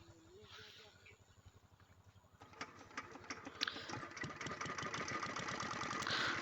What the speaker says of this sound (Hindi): अब देखिए, इंजन जो है बिल्कुल स्टार्ट हो चुका है।